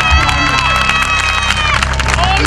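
A crowd at a human rights event for the Armenian cause claps and cheers loudly and steadily, with dense overlapping shouts and applause throughout.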